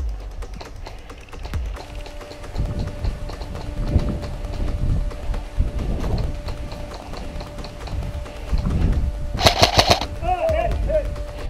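Airsoft guns fire in rapid bursts and single clicking shots during an outdoor compound assault game. Nearby rustling and movement mix with distant background noise, and a sharp burst stands out near the end.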